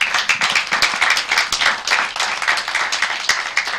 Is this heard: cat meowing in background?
no